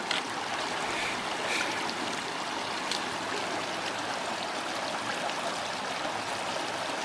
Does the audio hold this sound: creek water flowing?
yes